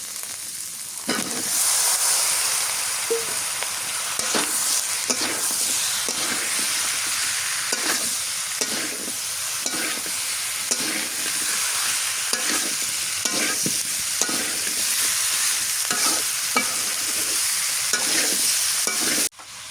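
Pumpkin tossed into a pan of frying masala hisses and sizzles continuously as a spoon stirs it, with regular scraping strokes that repeat roughly every second, close and fairly loud.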